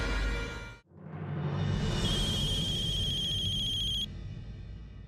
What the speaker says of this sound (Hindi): रमाकांत, अब जरा फोन लगाइए बिंदिया ठाकुर को।